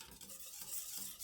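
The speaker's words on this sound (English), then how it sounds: "this is just a matter of whisking until I get my stuff" A whisk works through lemon tart filling in a bowl, a soft, quiet continuous swishing and scraping with faint rhythmic strokes, heard close and alone.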